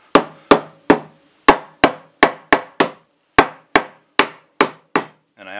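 A hammer strikes a wooden chair about a dozen times in a steady, irregular rhythm, each blow a sharp, close, ringing knock with a quick decay.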